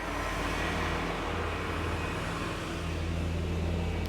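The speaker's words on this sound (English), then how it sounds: "Speaking of buses, there's a loud bus passing by" A loud, steady rumble of a bus going past nearby in Mexico, with continuous low engine drone and broadband road noise throughout.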